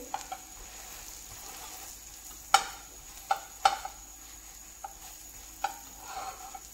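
Pav bread roasts on a hot pan for pav bhaji, a faint, quiet sizzle broken by a few sharp clinks and taps of a utensil against the pan.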